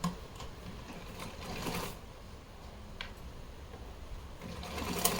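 Sewing machine attaching lace to a small doll dress, a soft continuous whir with faint rhythmic ticks, fairly quiet and heard on its own.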